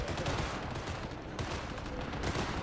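Gunfire in the video game Cyberpunk 2077 rattles in a dense, continuous burst of rapid shots, loud and close, with no talking over it.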